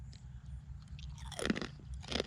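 Crunchy yellow spiral-shaped Burmese snack stick, mildly spicy, being chewed close to the mic: a run of dry crackling bites that swell toward the middle and end, with no talking.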